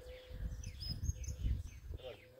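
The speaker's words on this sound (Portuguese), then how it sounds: "os pássaros cantam cada amanhecer" Birds chirp and call at dawn on a farm in the caatinga scrubland of the Brazilian northeast, with thin tweets and trills heard over a steady low background rumble.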